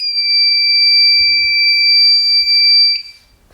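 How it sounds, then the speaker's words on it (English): A fire alarm sounding during a full fire alarm system test on a new panel: a loud, continuous piercing electronic tone held for about three seconds, then cutting off, with faint handling noise underneath. "at this point, we can reset our fire alarm system"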